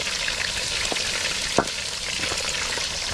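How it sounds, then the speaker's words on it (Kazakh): Pheasant meat frying in a pan, a steady broadband sizzle throughout with a brief louder crackle or stir near the middle, close and continuous with no talking. "Екі қырғауылдан қуыра жасадық."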